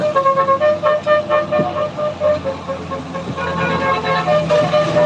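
Telolet musical horns from a pair of buses on the Sitinjau Lauik mountain road, sounding as steady melodic tones over loud traffic and engine rumble throughout, fairly close, with faint talk in the background.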